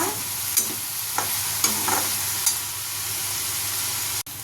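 Spices sizzle and crackle in hot oil as a tempering for cabbage, with a constant hiss, punctuated by a few sharp stirring scrapes and a final clack.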